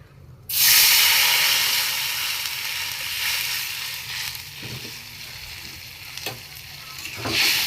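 Masala spice paste fries in a pan over low heat, a sudden loud hiss of sizzle that settles into steady crackling with a few spatula scrapes, no talking.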